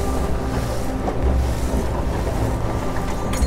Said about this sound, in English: as the boat approaches the pot, the crabs can actually get spooked by the engine